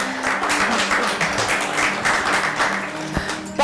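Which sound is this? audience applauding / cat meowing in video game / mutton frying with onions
audience applauding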